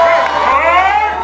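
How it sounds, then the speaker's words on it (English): A crowd at a street book-release event cheers and claps steadily and loudly for a brief stretch, mixed with shouts. "Y'all can start clapping now."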